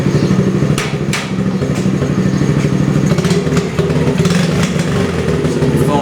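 A 1994 Honda Z50R mini bike rides along in low gears, its small engine putting out a continuous buzzy, rattly drone that rises and falls slightly, loud and close throughout.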